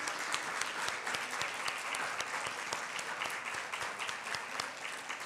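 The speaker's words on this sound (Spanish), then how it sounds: "Vamos a darle un aplauso al Señor" A congregation at a church women's teaching session applauds for the Lord, with dense continuous clapping heard at a distance and quite faint throughout.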